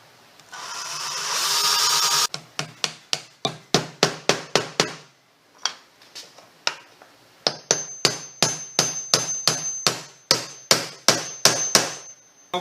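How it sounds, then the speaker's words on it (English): Hammer driving nails by hand into a small 3/8-inch sanded beaded molding strip on an antique spool cabinet, sharp close taps in rapid bursts, preceded by a brief whirring rasp. "we're nailing it in place"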